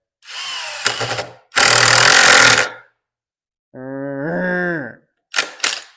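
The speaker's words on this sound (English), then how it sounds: "you can hear the difference in sound when you're, and you can tell when you've gone far enough" An impact driver whirs in several short bursts driving a screw, its pitch rising and shifting as the screw bites, then slows and changes tone at the end as it bottoms out.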